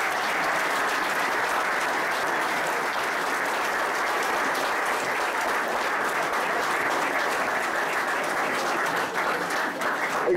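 Sustained applause from a reunion audience fills the room steadily and loudly, a dense wash of many hands clapping with no talk over it.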